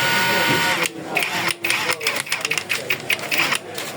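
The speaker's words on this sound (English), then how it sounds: "This is impact wrench. Same battery. Let's go." A Makita cordless impact wrench runs in rapid, loud hammering bursts that start and stop repeatedly, with short pauses between them, close up and dominating the clip.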